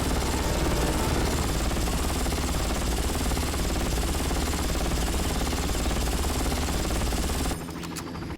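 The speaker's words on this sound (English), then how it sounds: "this time it's an outpost guarded by the strongest helicopter I've ever seen" A helicopter in the video game Far Cry 1 hovers over an outpost, a loud dense rotor roar with rattling mechanical texture that holds steady before cutting off abruptly, followed by brief faint clicks.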